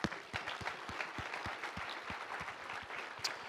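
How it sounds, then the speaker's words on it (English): An audience at the TechCrunch Disrupt 2019 startup event in San Francisco applauds the founders, a soft, distant round of clapping with some distinct individual claps and faint crowd murmur. "So let's give a big round of applause to all of the founders you saw on stage."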